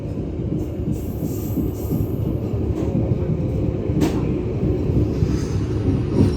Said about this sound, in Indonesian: itu lokomotif Doho sedang diputar